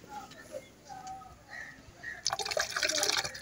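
Phenyl oil being poured into a mixture with turpentine and mustard oil for treating an animal wound: faint trickling at first, then a louder splashing pour in the final second.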